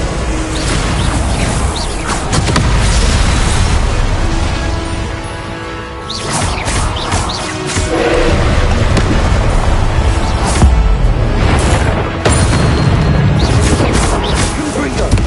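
Expelliarmus spell casts in a Hogwarts Legacy duel, loud whooshing bursts and booming crashes layered over dense, continuous combat noise with shouted incantations and battle clatter.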